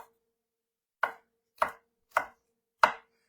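Knife chopping dense rutabaga into thin matchstick slices on a board: four sharp, evenly spaced chops, close and crisp, with silence between and no talk.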